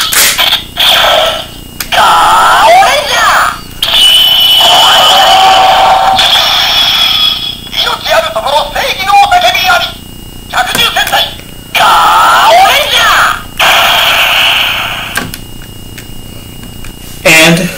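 A Gokaiger Mobirates toy phone, loaded with a Ranger Key, sounds off in loud electronic bursts of beeps, chimes and voice-like effects, broken by short pauses, with no talking.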